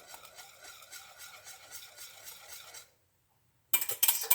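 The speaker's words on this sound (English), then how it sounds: "Scrape my bowl, get it all out." A spatula scrapes coconut cream pie filling out of a mixing bowl into a pan: close, rhythmic rasping strokes for about three seconds, then silence and a brief louder scrape.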